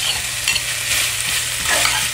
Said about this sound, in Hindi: ये देखें 2 मिनट सौते करने के बाद मैं अपनी वेजिटेबल्स डाल रही हूँ।